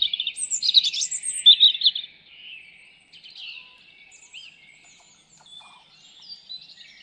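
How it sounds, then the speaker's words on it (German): A European robin sings at a car park in heathland, its bright, warbling phrases loud and close for the first two seconds, then softer scattered notes and chirps continuing alone through a quiet background. "wo mich ein Rotkehlchen am Parkplatz freudig begrüßte"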